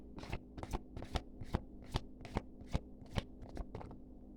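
A deck of tarot cards is shuffled close by in about ten quick, evenly spaced riffling bursts, each a short papery flutter over a low steady hum, with no talking.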